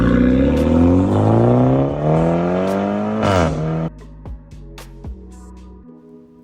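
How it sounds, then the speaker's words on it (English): A BMW 320i (G20, 2021) with its B48 engine and tuned exhaust revs hard, rising through the range with a crisp upshift and dropping to a lumpy idle with sharp pops and crackles near the end. "once you flash the gearbox together with some exhaust trickery, your B48 engine will sound a lot closer to this"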